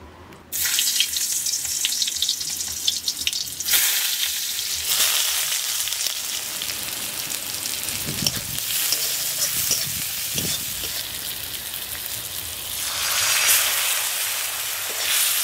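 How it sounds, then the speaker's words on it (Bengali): Red crab roe from Sundarbans river crabs fries with chopped onion in oil, a loud continuous hiss close by that swells and eases, with occasional clatters and no talking. "আর এখানে পেঁয়াজ কুচিয়ে নিচ্ছি, ঘিলুটা ভাজা করবো"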